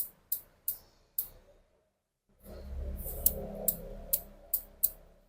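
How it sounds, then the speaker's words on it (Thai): Ratcheting clicks from a BOA lacing dial being turned on a running shoe, a few sharp ticks, a pause, then a faster run of crisp clicks over a soft rustling handling noise, close up. "หมุนไปเรื่อยๆก็จะเป็นแก๊กไปเรื่อยๆ"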